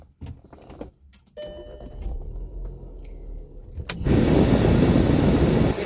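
A car engine cranks after some clicks and dings from inside the cabin, then catches and settles into a loud, steady idle heard close from the driver's seat.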